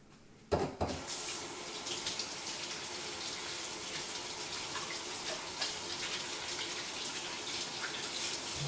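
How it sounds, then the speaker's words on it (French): Tap water runs steadily into a sink as hands are washed during home baking of soft cookies, starting abruptly after a brief click and continuing as a close, even broadband rush with no talk. "on va venir vite fait se laver les mains pour la suite"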